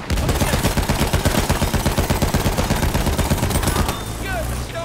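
Battlefield 1 video game gunfire rattles in a sustained rapid automatic burst for about four seconds, loud and close, then cuts to a quieter rumble with faint whistling sounds.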